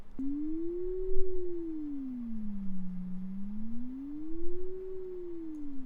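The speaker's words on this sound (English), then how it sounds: "this is what it would sound like with the pitch being modulated with an LFO on a sine wave" A pure synth sine tone slowly sweeping up and down in pitch, a smooth wavering wobble repeating in long cycles, steady and alone.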